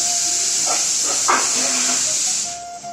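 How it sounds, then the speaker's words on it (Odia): Onions frying in hot oil, a loud, steady hiss close by that runs unbroken and then fades out near the end, with no talk over it. "ଏଠି ପିଆଜକୁ ଦେଖୁନ ମୁଁ ତେଲରେ ପକେଇ ଦେଇଛି ଭାଜିବା ପାଇଁ"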